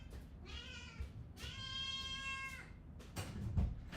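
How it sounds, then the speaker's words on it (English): A cat shut in a bedroom meows plaintively, giving two drawn-out tonal cries followed by a short one, fairly close, with faint room noise and no talk. "my other cat is crying. It is in the bedroom and I have to let it out"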